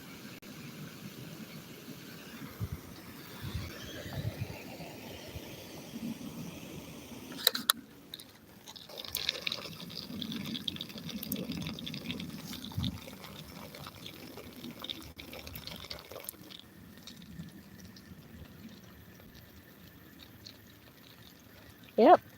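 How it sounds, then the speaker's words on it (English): Water poured over banana trees in a home garden, coming in intermittent splashing stretches with quieter gaps and a sharp knock near the end. "Put us some water on these here banana trees."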